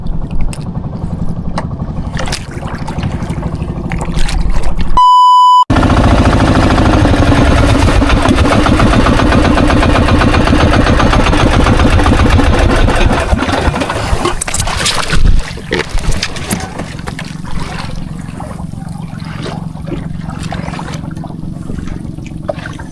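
A boat engine runs steadily and loudly on open water off Subic during a fishing outing, a continuous close drone interrupted briefly by a short electronic beep.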